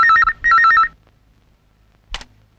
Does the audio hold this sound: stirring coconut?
no